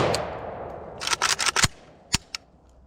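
A milled WBP Mini Jack AK47 pistol from Poland fires a quick string of sharp shots outdoors on a range, a rapid cluster of about six reports followed by two more spaced single shots.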